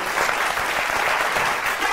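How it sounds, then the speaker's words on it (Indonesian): A studio audience at a comedy debate show bursts into loud, dense applause, sustained and even across the short stretch, with no speech over it. "Tepuk tangan dulu."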